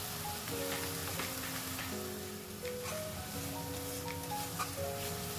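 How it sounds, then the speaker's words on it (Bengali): Onions fry with ginger, garlic and green chilli paste for a chickpea dal, a soft, steady crackling sizzle heard faintly beneath a sustained tonal background. "এবার ভালো করে মিশিয়ে নিয়ে 2-1 মিনিট মতো একটু কষিয়ে নেব।"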